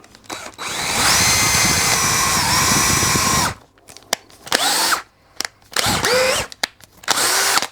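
A power drill bores out a pin in the compound slide handwheel of a lathe, one long loud whining run followed by several shorter bursts that rev up and stop, close by.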